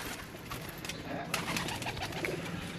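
Pigeons on a rooftop cooing softly and fairly distant, with wing flutters and outdoor background noise.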